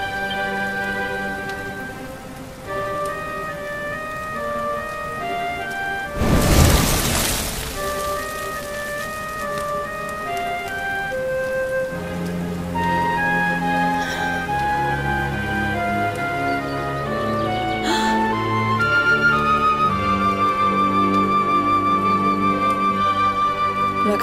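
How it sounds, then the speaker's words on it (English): Steady rain in the role-playing game Dragon Quest XI falls under layered orchestral game music, with a brief louder burst of noise partway through; no one speaks. "Looks like the rain's dying down."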